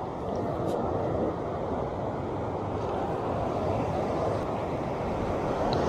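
Wind buffets the microphone beside a riverside weir pool, a steady, dense rumbling roar that holds for several seconds with no voices.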